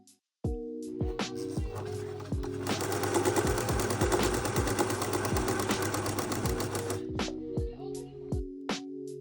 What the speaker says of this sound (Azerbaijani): Sancaqladıqdan sonra tikiş maşınından keçirdirik.